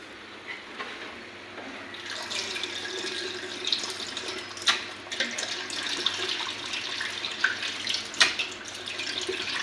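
Tap water runs and splashes while bamboo shoots are washed in a sink, a steady hiss broken by irregular splashes and clatters at close range, with no talk.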